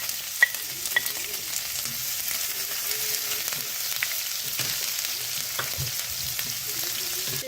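Garlic and onion frying in a pan for vegetable lumpia, a steady close sizzle with occasional stirring scrapes and clicks, no talk.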